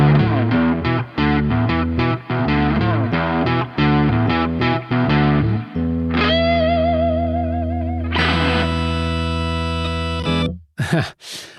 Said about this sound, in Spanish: Esto es una reverb digital emulando una de planchas